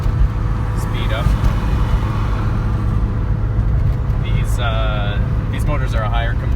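A 1970 Porsche 911S coupe driving through town in Victoria, British Columbia, its steady engine drone rolling on under talk from people inside.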